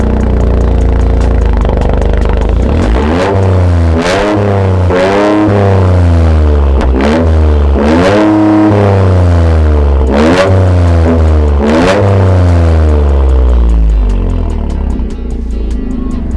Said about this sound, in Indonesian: Gue cobain agak ngegeber di tol. Wuh, suaranya ngebas banget.